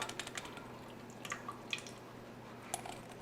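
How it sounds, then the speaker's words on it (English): Liquid poured into a bread machine pan for Hawaiian bread, a soft trickle with scattered drips and small splashes, faint and close with no talk. "I'm going to go ahead and pour my liquid into my pan."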